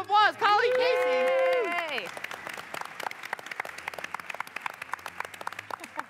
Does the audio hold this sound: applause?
yes